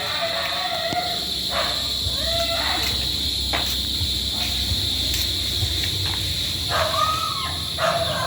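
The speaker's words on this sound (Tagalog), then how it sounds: "Kasi maingay yung mga aso" Dogs barking near a swimming pool under construction, a few scattered barks over a steady bed of crickets and insects, moderately distant with faint background talk.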